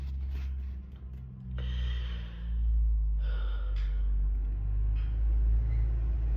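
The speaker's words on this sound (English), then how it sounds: "hear a truck coming, but I can't see it." A truck approaches on a road, heard as a low rumble that swells and holds steady. A few faint breathy sounds sit on top.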